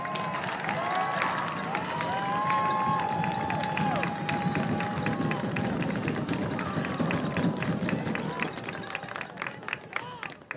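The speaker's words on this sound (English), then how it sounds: "give a round of applause to these seniors" An audience in a school gym or hall claps and cheers for graduating seniors at a student music competition, a sustained crowd roar of applause with whistles and voices mixed in, fading slightly near the end.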